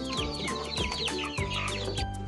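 Free-range chickens of mixed breeds, including Rhode Island Reds and native birds, cluck and chatter together on a farm, several overlapping calls close by with busy chirping layered throughout.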